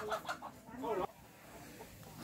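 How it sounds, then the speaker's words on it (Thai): Chickens in a community coop cluck in short, close bursts, with a voice talking alongside them. "อ๋อนี่คือเล้าไก่"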